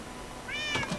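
A cat in Minecraft gives a single short, bright meow, rising then falling, loud and clear over a faint steady game background.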